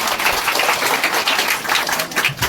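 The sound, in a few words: loud applause at church opening ceremony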